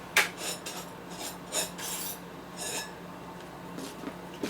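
A dowel file scrapes out a burr inside a hole in a 1972 Harley-Davidson Sportster ironhead engine part, making several short, close, gritty rasping strokes at an irregular pace over a faint hum.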